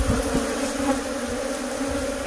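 Bees swarming around an RV fill the air with a steady, loud, close droning buzz that holds throughout without any talk.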